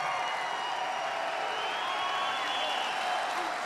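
A large rally crowd applauds the police at a Donald Trump rally in Bangor, Maine, producing a steady, dense wash of clapping and cheering that holds level from start to finish without a break.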